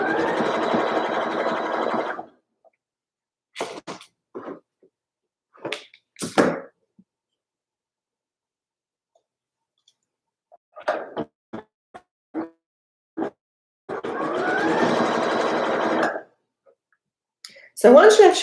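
A sewing machine stitches a sweater in several bursts, loud and close, separated by quiet gaps with clicks, taps and fabric handling.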